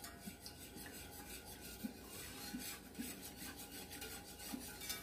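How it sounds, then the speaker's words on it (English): A whisk rasps steadily through grape jelly mixture as pectin is stirred in, a quiet continuous scraping with faint rhythmic taps against the pot. "Now we want to whisk this pectin in there to make sure it dissolves"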